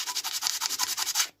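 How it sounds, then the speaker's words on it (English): Light hand sanding on routed plywood, a quick run of rhythmic rubbing strokes about five per second, close and steady, stopping abruptly near the end. "And just give it a very light sanding"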